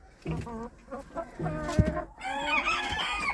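Young Cochin hens clucking and calling close by in a henhouse, several overlapping bursts of bright, throaty clucks and squawks filling the few seconds.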